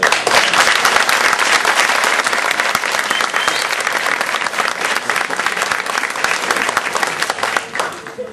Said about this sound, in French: Et je crois que vous devez l'applaudir